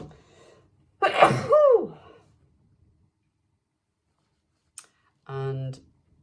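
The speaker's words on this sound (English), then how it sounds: "I'm gonna sneeze." A single loud sneeze with a sharp intake and burst, followed by silence, a faint click, and a short stretch of speech.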